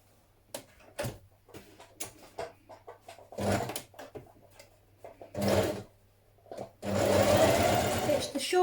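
A sewing machine stitching fabric for a spring top runs in short intermittent bursts, with a longer sustained whirring run near the end, separated by clicks and handling noises.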